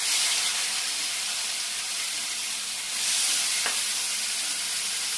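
Potatoes sizzle and crackle in hot oil in a pan, a steady close hiss with a brief scrape of stirring partway through and a slight swell in the frying noise near the end; no one speaks.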